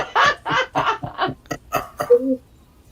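A chicken clucks in a quick run of about ten sharp, close clucks that speed up, then ends on a short, squawky tone before fading out.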